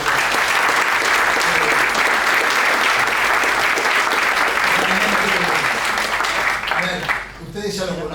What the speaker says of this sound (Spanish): que son los que están dando un fuerte aplauso